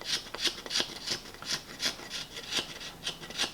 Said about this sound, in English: go a long way towards smoothing it out by scraping it